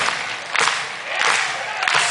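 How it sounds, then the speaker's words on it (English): A live audience at an acoustic music show claps hands loudly together, a dense burst of applause that swells and fades in waves with a few sharp individual claps standing out. "Come on, everybody, and clap your hands real loud."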